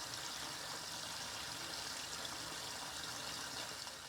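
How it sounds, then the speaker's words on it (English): A tap runs steadily into a bathroom sink as it fills with water, giving a continuous soft gushing hiss at a constant low level, no voices. "Fill the sink completely with water, making sure the overflow drain works properly."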